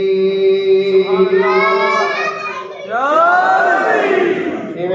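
At a Jashn-e-Imam Hussain celebration in Jamia Masjid Jafariya, Dhanda, a crowd chants a religious slogan in loud, sustained unison, with voices rising and swelling together.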